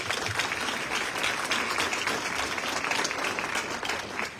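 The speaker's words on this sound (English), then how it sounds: "Please, we'd like to give a round of applause." Steady applause from a crowd at a teacher awards ceremony, sustained and even for the whole stretch.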